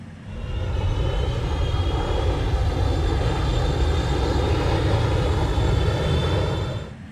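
Concorde jet engines at Mach 2 cruise around 50,000 feet, a steady, loud, unbroken roar with a fixed tonal hum that holds evenly throughout and fades slightly at the ends.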